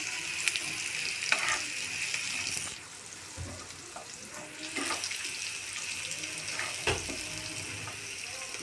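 Onion and garlic fry in a pan with a loud hissing sizzle that eases midway, punctuated by occasional stirring knocks and scrapes.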